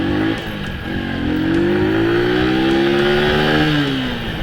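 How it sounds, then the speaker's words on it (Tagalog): A Rusi Macho 125 motorcycle accelerates on a test ride, its engine note climbing steadily in pitch as it revs up close and loud, with a slight dip near the end, no talking. "Patakbuhin natin yung motorsiklo tapos preno natin siya ulit."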